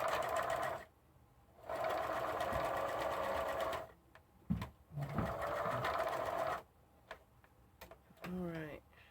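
A sewing machine stitches across the top of a raised V neckline in bursts: a steady run, a pause, another long run, then short stops and starts, with a bit of quiet talk in the gaps.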